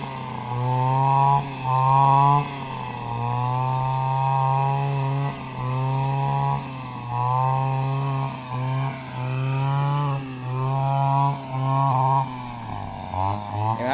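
A small two-stroke brush cutter engine drones steadily up close while cutting grass, its pitch dipping and rising repeatedly as it bogs under load and recovers.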